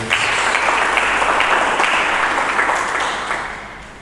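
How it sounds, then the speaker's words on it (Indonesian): A church congregation applauds steadily and loudly, a dense wash of clapping that holds for several seconds before starting to taper off. "Mari kita berikan tepuk tangan yang meriah."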